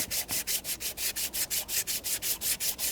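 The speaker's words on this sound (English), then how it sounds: "That's why I use a real fine grit emery cloth." Fine-grit emery cloth sands an aluminum intake surface near the electronic throttle body of a 2014-2019 Toyota Corolla 1.8L L4, giving a steady, even back-and-forth rasp of about a dozen quick strokes, close and moderately loud, with no talking.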